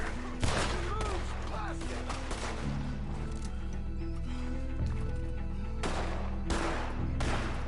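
Dense gunfire in the Western game Red Dead Redemption 2, with rapid overlapping shots that form a steady roar over a tense music score and occasional voices.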